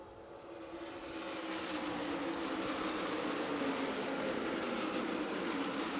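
Stock race cars at the Milwaukee Mile during an ARCA Midwest Tour 150-lap race, engines swelling from a low rumble into a sustained, steady roar as the field accelerates back to green, loud and continuous without talk.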